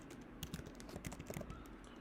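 Quick bursts of keystrokes clatter on a computer keyboard as a website address is typed, faint and close, with a few irregular clusters of taps.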